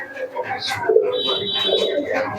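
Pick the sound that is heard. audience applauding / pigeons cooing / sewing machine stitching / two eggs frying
pigeons cooing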